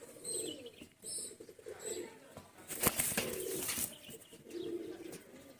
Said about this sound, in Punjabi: ਲਾਲ ਚੀਨਾ ਕਬੂਤਰ ਆ